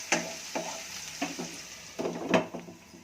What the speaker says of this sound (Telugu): ఇంకా కొంచెం వేగాలి వంకాయ.